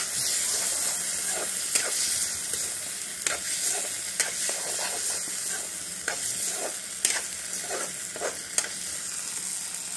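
Chicken with ginger garlic paste frying in a pot, a faint continuous sizzle broken by repeated sharp scrapes and taps of stirring at an uneven rhythm.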